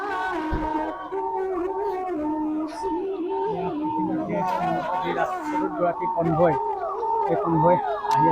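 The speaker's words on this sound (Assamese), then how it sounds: "চাইৰেনৰ শব্দ শুনিছোঁ" Sirens from the Thai ambassador's approaching convoy wail and waver continuously, mixed with nearby crowd chatter and voices.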